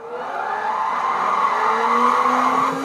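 A drifting no-turbo Nissan 240SX in Gran Turismo 5 holds a steady, continuous tire squeal for a few seconds, the rear end sliding while the engine drones underneath, loud and close with no voices.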